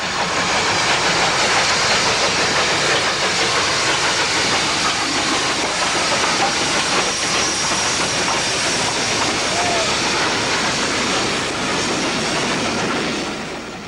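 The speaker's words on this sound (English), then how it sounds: "The Bulleid Pacific finally sets off for the south" A Bulleid Pacific steam locomotive setting off for the south, heard as a steady loud hiss and rumble of steam and train noise that holds evenly throughout and fades slightly at the end.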